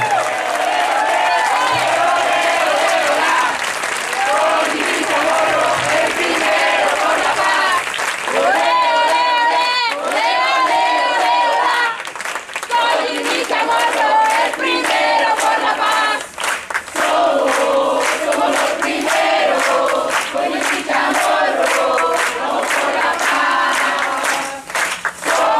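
A crowd at an evening political rally in Córdoba bursts into loud, sustained applause and cheering, with whoops and shouts rising over dense clapping that swells and continues for a long stretch.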